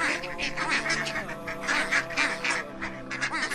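Ducks and geese honk and quack loudly together as a narration sound effect, a dense, continuous flock chorus with overlapping calls throughout.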